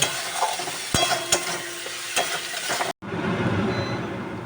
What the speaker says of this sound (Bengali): পেঁয়াজটা আমার ভাজা ভাজা হয়ে গেছে এবার আদা রসুন বাটাটা আমি এর মধ্যে দিয়ে দিলাম